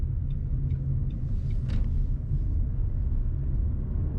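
A car turning left at an intersection in Saint-Germain-en-Laye, heard from inside as a steady low engine and road rumble with a faint brief click partway through, and no talking.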